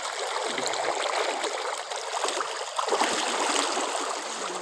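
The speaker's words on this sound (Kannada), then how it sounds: "ತುಂಬ ನೀರು ಬರ್ತೈತೆ" Floodwater rushes across farmland after a night of heavy rain, a steady, fairly loud broadband flow with no pauses, like a stream running close by.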